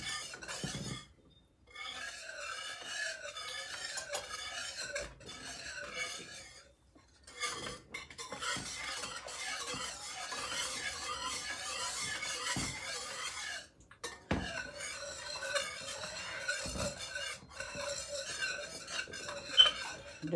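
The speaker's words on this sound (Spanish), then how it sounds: "No paren de menearlo." Coconut májarete is stirred in a pot over very low heat with a utensil, giving soft repeated scraping and clinking strokes with a few short pauses, quiet and close.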